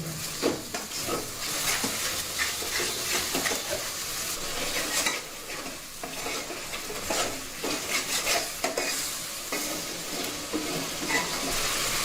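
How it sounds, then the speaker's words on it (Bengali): Spice paste of coriander powder, nut paste and poppy seed paste stirred and fried in a pan for an egg dish, with a steady sizzle under repeated scraping and clinking spoon strokes, close and continuous, no talk. "এবার মশলাটা খুব ভালোভাবে কষিয়ে নেব।"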